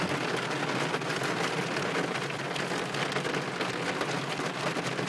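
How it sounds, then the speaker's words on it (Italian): Heavy cloudburst with hail pounding down in Gallarate on a May evening, a dense, steady roar of rain and hailstones hitting surfaces that stays loud and unbroken throughout, with no voices. "Nubifragio in corso a Galarate con grandine."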